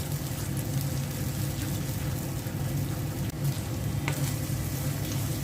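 An egg sizzles and fries steadily in a pan with chopped green chili while making noodles, a continuous close crackle with a low hum beneath and a couple of faint clinks.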